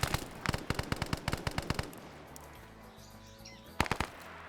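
Sharp sniper and rifle shots crack in a rapid string in a Vietnam-era PvP shooter, then a quieter stretch of distant rumble before a second short burst of shots.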